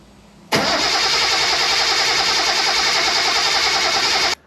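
A Datsun 240Z engine cranks and catches abruptly, then settles into a steady, loud, close idle that runs without change for several seconds before cutting off.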